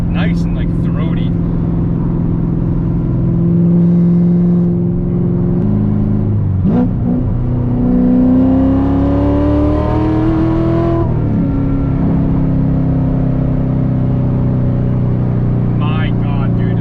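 A Chevrolet Corvette C7 Z06 with a loud new aftermarket exhaust, a deep throaty idle that swells into several rising revs and drops back, close and loud, with a person talking over parts of it.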